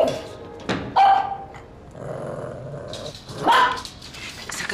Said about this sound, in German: Das ist der Hund vom Herrn Menzel